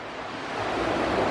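Black Sea waves wash onto the shore in a steady, moderately loud surf rush that swells slightly toward the end, with some wind buffeting and no voices.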